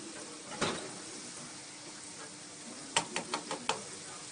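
Cut pumpkin and pointed gourd stir-fried in a pan, with a faint low sizzle and a quick run of spatula knocks against the pan near the end.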